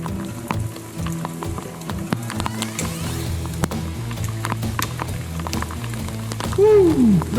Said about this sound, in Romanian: Băi, plouă aici.